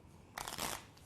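A magician shuffles a deck of playing cards, giving a short, close riffle burst of crisp card flutter that lasts about half a second after a quiet moment.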